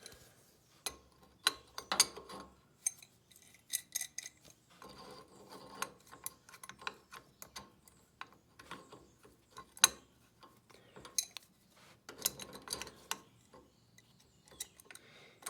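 A socket wrench ratchets against a bolt on a set of pulleys, giving bursts of quick, close clicking that start and stop in uneven runs over a quiet background.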